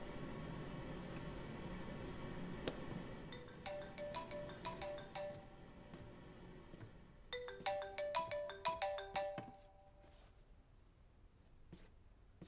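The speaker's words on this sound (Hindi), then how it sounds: "तुम्हारा फोन बज रहा था।" A mobile phone ringtone plays a melodic electronic tune in two repeating phrases, fairly quiet against a soft background hiss, then stops.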